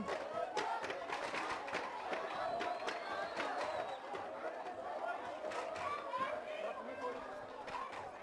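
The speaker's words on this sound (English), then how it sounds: "As the crowd goes wild, they're starting to pick it up here at the park in Klein Willem" A rugby festival crowd at an outdoor park in Clanwilliam cheers and chatters steadily, a broad murmuring roar with scattered shouts and claps, heard at moderate distance under a commentator's voice.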